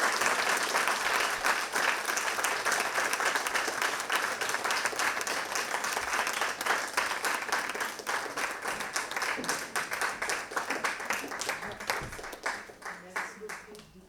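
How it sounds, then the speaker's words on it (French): An audience at an evening lecture on Afro hair applauds a guest speaker, a dense sustained round of clapping that continues for over ten seconds, gradually thinning toward the end. "Je vous prie d'accueillir avec des applaudissements retentissants Madame Juliette Smeralda."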